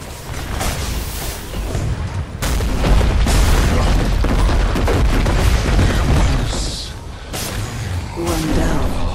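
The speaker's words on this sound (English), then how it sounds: "Radiant's top tower has fallen." A tower crumbles in a Dota 2 match amid a thick, rumbling wash of explosions and battle clatter, loud and sustained, swelling midway and easing near the end before another burst.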